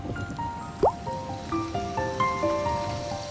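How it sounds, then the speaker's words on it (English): Rain returning to the Amazon rainforest: a steady patter of falling rain and dripping water runs throughout, with thin whistling calls over it. "the rains return and water gains dominion over the land."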